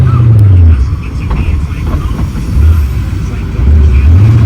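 A Shelby Daytona drives on a manual gearbox, its engine droning low and loud up close, rising and falling as gears shift in repeated cycles.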